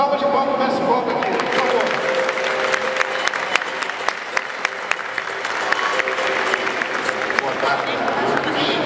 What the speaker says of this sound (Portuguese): uma salva de palmas para o mestre Bob aqui